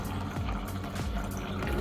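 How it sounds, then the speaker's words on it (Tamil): Quiet, steady trickle of water running from a refrigerator door dispenser for a couple of seconds, with a faint hum behind it. "இப்போ நீங்கள் இதை ப்ரெஸ் பண்ணும்போது நமக்கு தண்ணி வந்து கிடைக்கும்"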